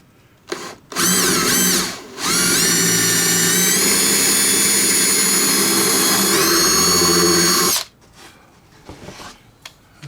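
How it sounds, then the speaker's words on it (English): A power drill spins a reamer to enlarge a hole in the wing of a Warbirds Replicas FW190 model, a loud whining run lasting several seconds after a short start, then cutting off to quiet handling noises. "I use reamers for this sort of thing."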